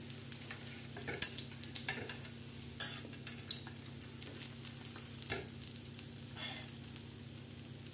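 Egg-dipped bread fries on a hot iron tawa griddle with a constant close sizzle, punctuated by sharp clicks and scrapes of a spatula as it is turned. No one speaks.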